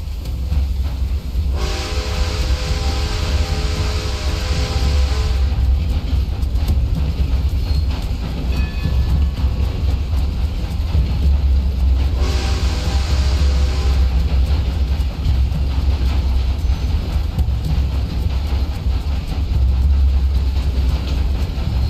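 A train rumbles steadily along the tracks in Red Dead Redemption 2, with a continuous low rolling roar and two long horn blasts, the first early and the second about ten seconds later.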